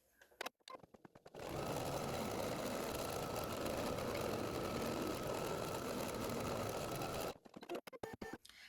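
An embroidery machine runs a continuous tack-down stitch to secure background fabric, a steady dense whir lasting several seconds, with brief clicks and starts just before and after.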